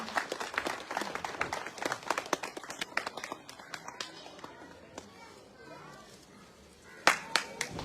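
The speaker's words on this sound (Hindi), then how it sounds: "आप सब लोग जोरदार तालियां बजाएं" Crowd clapping at a village blanket distribution event, dense and lively at first, then thinning into scattered claps with children's voices and footsteps, before a few loud single claps near the end.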